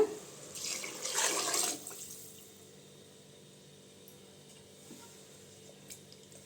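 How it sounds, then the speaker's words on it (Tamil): Water pours into a cooking pot of rice for vegetable rice, a short splashing stream in the first two seconds, then quiet room tone. "அதில் ரெண்டு கப்பு தண்ணி ஊற்றுக்கலாங்க"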